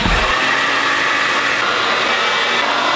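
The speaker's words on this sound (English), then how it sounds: "we're gonna go ahead and get our hair dryer, put this guy in the sleeve" A hair dryer blowing at close range, a steady, loud broadband whoosh of air and motor hum running unbroken throughout.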